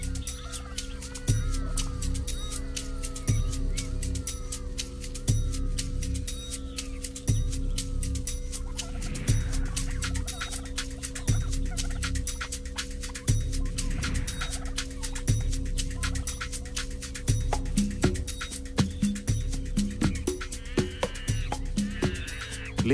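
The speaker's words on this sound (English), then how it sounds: "The Australian brush turkey, with its mainly black body plumage, bare red head, yellow throat wattle, and laterally flattened tail, is a very common mound-building bird" Australian brush turkey, a black mound-building bird with a bare red head and yellow wattle, heard as repeated low grunting and clucking calls over a steady background of insects and other birds, close and continuous.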